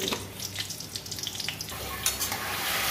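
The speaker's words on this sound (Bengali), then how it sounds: "সরষের তেল, লঙ্কা, কালো জিরে, ফোড়ন।" Mustard oil tempering with dried chili and nigella seeds sizzles softly in a pan, a faint crackling hiss with scattered pops, without talk.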